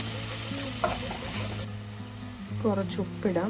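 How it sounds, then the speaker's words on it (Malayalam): Shallots sauté in a hot pan with a steady, close sizzle and frying crackle throughout, while someone speaks briefly over it near the end. "പിന്നെ ചെറിയുള്ളി എല്ലായിട്ട് നന്നായിട്ടൊന്ന് വഴറ്റാം."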